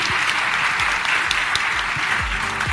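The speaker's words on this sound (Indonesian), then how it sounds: "Boleh minta tepuk tangannya sekali lagi." Audience at a talk-show session of the Satu Indonesia Awards 2025 gives another round of applause, a loud, continuous crowd clapping with dense sharp claps close by.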